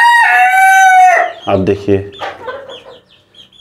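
A desi rooster crows loudly and close for about a second among free-range chickens at a small village poultry farm near Babatpur, Varanasi, followed by someone speaking.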